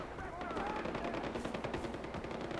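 Far Cry 4 firefight: rapid machine-gun bursts crackle continuously at moderate distance over a rough, noisy wash of outdoor combat, with no talk.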